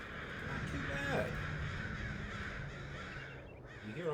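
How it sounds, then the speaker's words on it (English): Birdsong plays in the Wingspan board video game, with cawing crow-like calls and chirps sounding softly through a low, busy background. "You hear all those happy ass chirping birds?"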